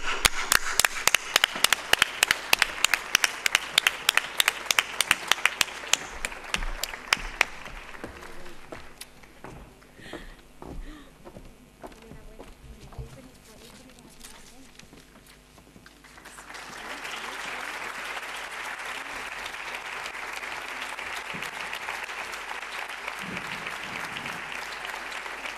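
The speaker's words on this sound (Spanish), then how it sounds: "Un gran aplauso a esta mujer" Applause from the audience at an education gala: sharp, loud claps from one nearby pair of hands ring out first, then quieter scattered clapping with faint talk, then a broad sustained round of crowd applause at moderate level.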